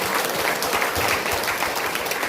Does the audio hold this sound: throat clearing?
no